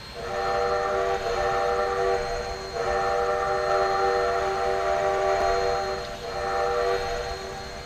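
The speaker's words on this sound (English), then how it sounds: "the whistle on this is actually a 3-part version of the Hobo's Horn" A steam locomotive's three-chime Hobo's Horn whistle sounds in the Trainz video game for a G5 4-6-2 engine, giving two long steady blasts and a third starting, loud and close, over a faint background hum.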